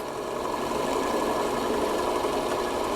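Forstner bit boring into an electric guitar body, a steady continuous mid-pitched drilling drone with motor hum that holds level for the whole stretch, close and fairly loud with no talking.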